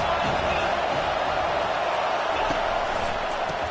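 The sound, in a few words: stadium crowd noise at an American football game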